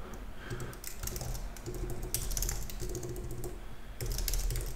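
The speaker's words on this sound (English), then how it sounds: "All I have to do is just to start typing." A computer keyboard clatters with steady, close typing, keys tapping in quick irregular bursts throughout, with no talk.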